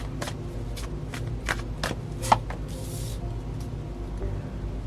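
Tarot cards being shuffled by hand, a run of quick riffling bursts at an uneven rhythm with one sharper snap midway, close and fairly quiet over a low steady background hum.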